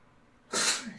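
A single loud, close sneeze bursts out after a quiet pause during a live coin auction, sharp and breathy before it trails off.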